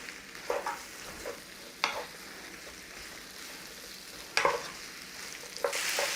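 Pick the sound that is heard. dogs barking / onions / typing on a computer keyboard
onions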